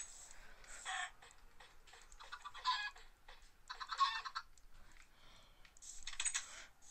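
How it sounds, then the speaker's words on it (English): Chickens cluck in the Minecraft hardcore game, a run of short, bright bursts spread across several seconds with brief gaps between them, fairly faint and with no talking. "I did kill a massive amount of chicken."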